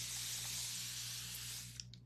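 A spray bottle or can misting a seasonal fall craft wall decor piece with a steady, close hiss lasting nearly two seconds before it cuts off, followed by a couple of faint taps.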